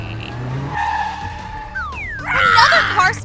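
A toy car zooms in with rising whooshing sweeps, then a loud burst of high squealing, skidding tire sounds in a tabletop Lego construction scene, close and dominant.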